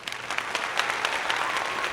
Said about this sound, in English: Get yourself a round of applause.